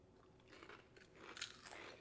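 Stranger Things 3D Crunch Three Cheese Doritos crunch as someone bites and chews, a few faint, crisp crackles close by with no talking.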